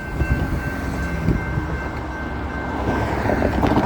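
A CSX freight train rumbles past nearby with a steady, loud roar of rolling cars and a faint high tone, continuous throughout.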